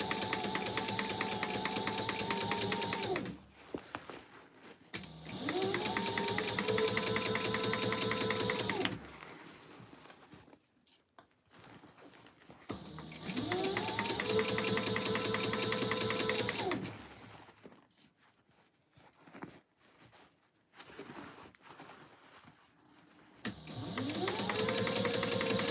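A sewing machine stitches a tote bag with webbing handles in three long, steady bursts of rhythmic whirring and needle clatter, separated by quiet pauses with soft handling noises.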